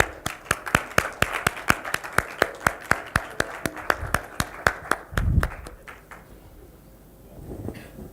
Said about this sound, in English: let's give them a round of applause as they walk on the stage.